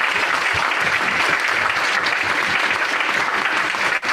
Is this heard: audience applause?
yes